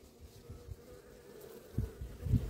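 Honey bees buzz around a hive frame during a hive inspection, a steady low drone with louder swells as individual bees pass close, faint overall with no talk.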